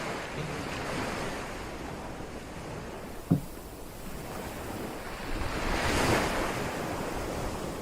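Ocean waves wash onto a beach with a continuous roar of surf and wind, broken by one sharp knock partway through and swelling louder as a wave breaks near the end.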